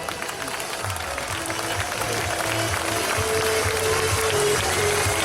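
A large crowd at a European air show at Jesolo applauds steadily, a dense continuous patter of clapping under a droning announcer's voice, with a low engine hum beneath.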